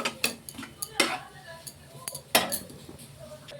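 A spoon scrapes and clinks against metal as a fried, mashed, spiced potato mixture is moved into a bowl, giving a few sharp, separate knocks with a faint voice in the background.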